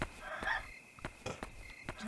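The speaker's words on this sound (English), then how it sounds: "Hey, at least the chickens are okay." Chickens cluck in the video game Yomawari Night Alone, a few soft, short clucks and scratchy calls in quick, irregular succession, faint and close.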